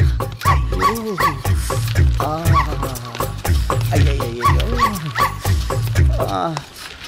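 A dog in a Kannada comedy film scene barks, yips and whimpers in repeated excited bursts, loud and close, mixed with agitated human voices.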